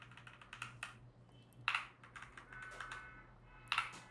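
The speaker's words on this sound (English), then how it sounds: "Let's press the enter key and create this user." Keys clatter in an uneven run of typing on a computer keyboard while a PostgreSQL user is created, with two sharper, louder keystrokes standing out, close and dry with no talk.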